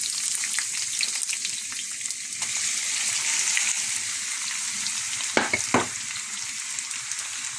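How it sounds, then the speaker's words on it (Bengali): Onions hit hot oil already seasoned with bay leaf, dried chili and cinnamon, giving a dense, even sizzle and crackle close by, with a couple of sharper stirring knocks near the end. "তেজপাতা দিলাম, শুকনো মরিচ, দারচিনি। এখন আমি পেঁয়াজ দিয়ে দিই।"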